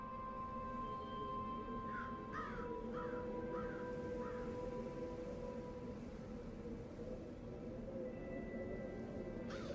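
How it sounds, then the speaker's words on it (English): A crow caws several times in quick succession within a Dreamfall: The Longest Journey game scene, the calls moderately near over a steady ambient background hum, with no talking. "It's Crow."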